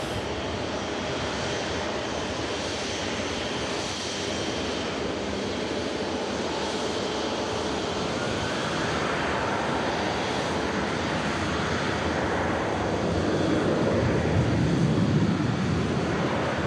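A Singapore Airlines Boeing 747 taxis past at Manchester Airport, its engines a steady broad roar with wind noise that swells slightly toward the end.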